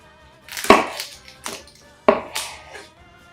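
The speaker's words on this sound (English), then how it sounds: "the first thing that we're going to do is we're going to cut off the stem part." A knife slices through an onion on a cutting board, two sharp crisp chops each followed by smaller crunches and taps, close and fairly loud.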